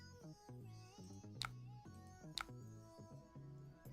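A cat meows a couple of times, each call short and fairly faint, sitting under a steady bed of background music.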